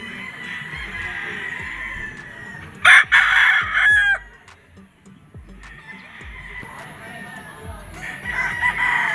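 A pure Sweater gamefowl rooster crows loudly and close by in one strong, sustained burst, with other roosters crowing farther off and faint farmyard noise around it.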